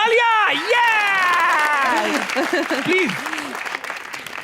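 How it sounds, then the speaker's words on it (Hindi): A studio audience claps steadily throughout while a voice speaks and calls out over the continuous applause. "तालियां."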